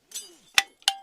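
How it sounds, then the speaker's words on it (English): A soldier unclipping metal climbing gear after a first mountain abseil: two sharp, close metallic clinks about a third of a second apart, preceded by a faint rustle, otherwise quiet. "The sound of a soldier unclipping from their first mountain abseil"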